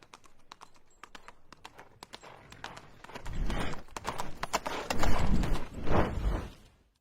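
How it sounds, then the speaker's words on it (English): Horse hooves galloping from a Chronicles of Narnia film, a steady clip-clop that builds from faint, sparse beats into loud, rapid pounding before cutting off abruptly. "all you hear is the galloping of the horse running away"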